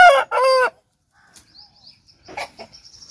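A rooster close by gives a loud, harmonically rich crow. Softer chicken clucks follow, along with scattered small bird chirps, in a quiet rural yard.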